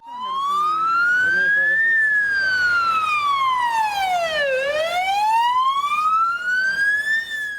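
Wailing emergency siren on a city street in Chernivtsi, a loud, close, sweeping tone that rises, falls and climbs again, with faint voices beneath it.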